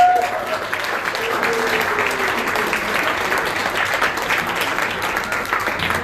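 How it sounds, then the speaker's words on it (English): An audience at a Utah training event gives a sustained round of applause, many hands clapping loudly and continuously from start to finish. "I want you guys to do a round of applause for you guys."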